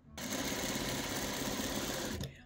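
A sewing machine runs a steady burst of stitching along a diagonal seam in fabric, close and loud, lasting about two seconds before stopping abruptly.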